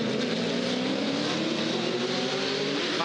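A big 6-litre Ford GT1 race car engine roars steadily at a circuit in Hamilton, a loud, continuous high-revving drone with no one talking over it.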